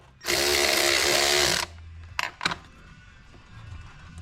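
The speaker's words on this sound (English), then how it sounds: "Loosen that clamp up." A power tool, likely a cordless driver, runs loudly and steadily for about a second and a half while loosening the cold air intake hose clamp on a Ford F250 6.7L, followed by a few brief clanks.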